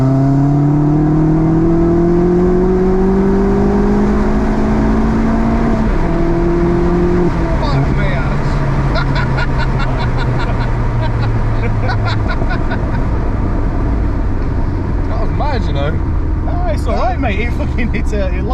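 A Vauxhall Astra VXR accelerates hard with front wheelspin, its engine note climbing steadily through rising revs before a gear change, loud and close, with a person talking over it.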